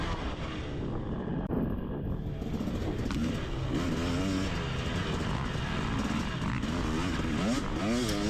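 A dirt bike engine revs hard and keeps climbing as the rider accelerates through a cross-country race course, the loud continuous engine note rising and falling over wind and rough-track clatter.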